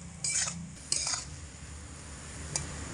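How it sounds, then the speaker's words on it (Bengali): Semolina being stirred in a pan over low heat, with fried nuts and raisins mixed in after water is added; a few scraping, clinking spoon strokes against the pan over a faint low sizzle, close by with no talking. "সেই জন্য জল দেওয়ার পরে এইভাবে অনবরত নাড়াচাড়া করতে হবে।"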